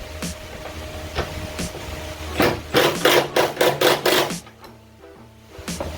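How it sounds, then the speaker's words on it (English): Metal wrenches working a 13 mm bolt and 12 mm backing nut on a Jeep Wrangler hood strut bracket, giving a quick run of close, sharp ratcheting clicks and clanks mid-clip after scattered lighter taps, then quiet. "we're gonna do that 13 mil right there, and we're also gonna use a 12 mil wrench to hold that backing nut"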